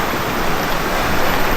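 A river swollen and overflowing in the rainy season rushes past in a steady, loud, broadband wash of water, close by and uninterrupted, with no voices.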